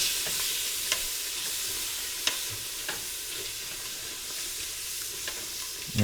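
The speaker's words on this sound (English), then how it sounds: "we're going to let this deglaze the bottom of the pan and get all those crusty, caramelized bits up off the bottom" Pot roast pan steadily sizzling and frying while being deglazed with tomato pasta sauce, a continuous crackling hiss with occasional sharp clicks and a soft stirring scrape near the end.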